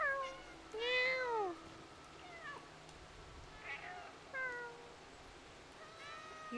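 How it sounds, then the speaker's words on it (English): Cats in the video game Stray meow repeatedly, several distinct rising and falling calls spaced out over quiet game ambience. "Why do they all have to meow?"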